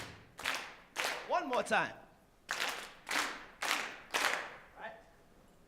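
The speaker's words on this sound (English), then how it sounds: "first thing we are going to do is clap 4 times to the front." A group in a dance class claps together in a reverberant room, about six loud unison claps spaced roughly half a second to a second apart, each ringing briefly, while an instructor talks between them.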